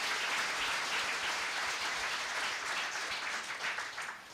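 Steady applause from an audience at a political party staff meeting, a dense, even wash of clapping that holds loud throughout and eases only slightly near the end.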